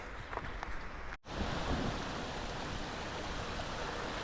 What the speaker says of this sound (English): And here's a little stream. Runs into the main river.